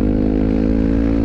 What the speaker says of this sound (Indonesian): Ada dia knalpot racing mah.